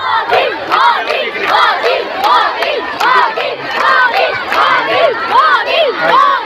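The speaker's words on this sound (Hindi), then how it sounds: "इसमें लड़कियों का एक बड़ा समूह नारे लगा रहा था, मोदी योगी जिंदाबाद" A large group of girls chants political slogans in unison at a crowded rally, loud rhythmic repeated calls of many voices, close and continuous.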